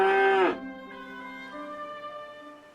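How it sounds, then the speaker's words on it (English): A cow lets out a single loud, close moo that swells, then drops off into a lower, fading tonal tail, with no other sounds around it. "Don't underestimate the power of a cow."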